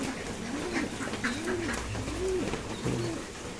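Fancy pigeons in a loft, black-eyed American and local Lakka breeds, give repeated soft rolling coos, several overlapping calls close by over steady background noise.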